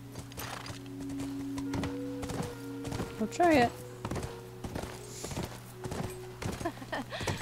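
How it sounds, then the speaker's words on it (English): Horse hooves clip-clop in The Last of Us, a steady walking beat of thuds with a brief whinny partway through, all under ongoing game music and a person talking over the gameplay. "can the horse jump over maybe?"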